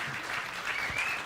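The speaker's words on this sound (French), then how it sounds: "On peut les applaudir." A summit audience on a main stage applauds, a brief burst of dense clapping from a room of people.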